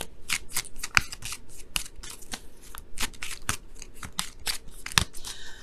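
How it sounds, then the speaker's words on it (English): Tarot cards being shuffled and pulled from the deck during a reading, a steady run of crisp riffling and snapping card noises, close and fairly loud, with no talking. "I'm going to pull a card for that too."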